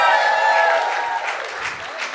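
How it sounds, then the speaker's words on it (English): Live audience at an on-stage comedy event claps and cheers to welcome a co-host, a loud continuous burst that gradually thins out, with a voice briefly audible over it. "Start clapping right now."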